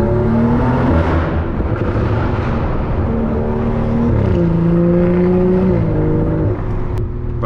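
A BMW 340i pulling hard up a highway on-ramp, its engine note climbing steadily through the gears with brief dips at shifts, a loud continuous interior drone.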